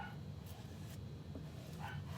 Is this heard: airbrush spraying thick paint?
no